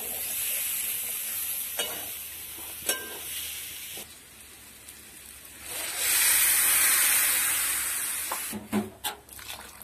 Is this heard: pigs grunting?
no